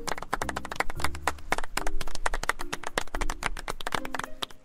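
A burst of hand clapping in the video game Sea of Thieves, quick and irregular taps layered over a low background hum, loud and close throughout.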